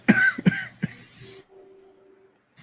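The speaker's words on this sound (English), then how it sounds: "Was that your coughing" Three sharp, close coughs from a person who has been smoking hookah burst out in quick succession, followed by a low steady hum and near silence.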